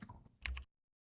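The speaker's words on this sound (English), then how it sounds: "My typing with one hand is difficult." Someone types one-handed on a computer keyboard, producing a brief, close cluster of a few quick clicks after some low shuffling, then silence.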